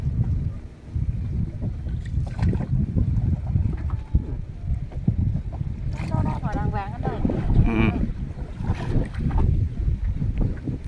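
Strong gusts buffet the microphone outdoors by the water in the Mekong Delta countryside, a loud continuous rumble throughout, with faint water and movement noises underneath.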